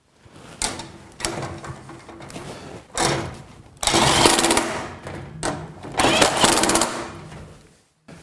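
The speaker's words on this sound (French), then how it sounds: "Alors moi j'utilise une visseuse à choc" Impact driver tightening bolts into threaded supports while a Geberit One bathroom cabinet is mounted, sounding as several loud bursts of whirring and hammering separated by short pauses, close up, with no voices.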